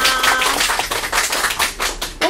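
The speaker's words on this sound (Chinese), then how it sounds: "我们掌声开始" A small group claps steadily for a couple of seconds, loud and close, with no talking.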